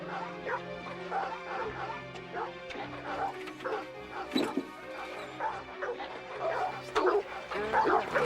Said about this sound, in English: I'll get these dogs quieted down.